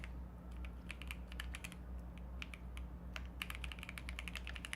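Typing on a computer keyboard: quiet, irregular bursts of crisp key clicks, some in quick runs and others as single taps, over a low steady hum with no talking.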